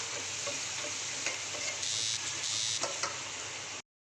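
Chopped chili and garlic fry in spice masala, making a dense, close, high-pitched sizzle with a few brief stirring scrapes before cutting off abruptly, no speech.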